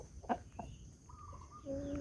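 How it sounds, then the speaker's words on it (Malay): Chickens on a small farm flock, with a few close clucks and short calls scattered over about two seconds, along with some faint background noise. "Ni ayamnya."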